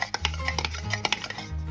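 A spoon stirs a thick plaster-and-water mix in a cup, giving repeated close scraping and clinking taps in an uneven rhythm, fairly quiet with no talk.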